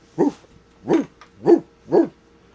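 A person imitates a dog barking, producing four loud, close, evenly spaced bark-like woofs with short silences between them.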